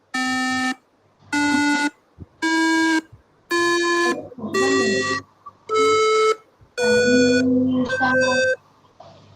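Electronic buzzer toy buttons pressed in turn, giving a series of loud, sustained, harmonic-rich electronic tones in short bursts with brief gaps, the later ones shifting pitch like a simple tune.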